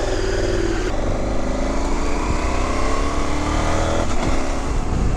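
A 2019 KTM 1290 Super Adventure S motorcycle pulling away, its engine loud and close, climbing through the revs with a short shift break before rising again.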